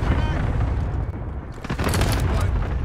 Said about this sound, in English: Cluster strike.